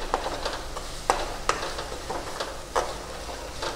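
Finely chopped tomatoes stirred into onion gravy for pav bhaji, a steady close sizzle with several distinct spoon scrapes and knocks against the pan.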